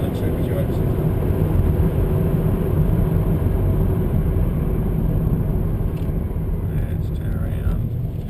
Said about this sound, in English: These blowers are even quieter, so they're very much a sophisticated sort of feeling supercharger system